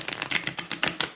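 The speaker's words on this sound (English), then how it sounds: "that is really bendy to try riffle shuffling" A Wheel of the Year tarot deck is riffle shuffled, giving a short rapid run of crisp papery clicks as the stiff, bendy cards flick together close by.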